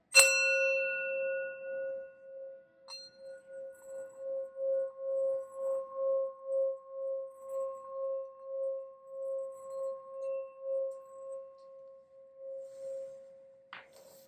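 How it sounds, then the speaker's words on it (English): A singing bowl is struck once and then rung steadily around the rim, building a sustained pure ringing tone that swells and pulses in a slow even rhythm before fading out near the end, alone with no talk. "I'm going to ring the sound bowl."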